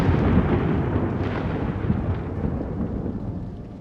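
A thunder rumble from a lightning strike opens loud and heavy, then rolls and fades gradually over several seconds, alone with no voices.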